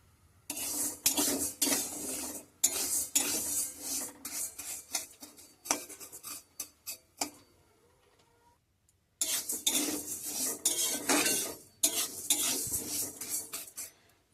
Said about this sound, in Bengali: ডালটা আমি হালকা করে ভেজে নেব।